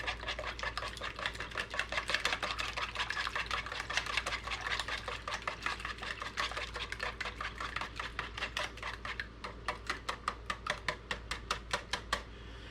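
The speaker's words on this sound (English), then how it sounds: "I'm going to whisk them up quite a bit." Eight eggs whisked vigorously in a bowl for French toast, rapid rhythmic ticking and clattering strokes that stay steady and moderately close throughout, with no voices.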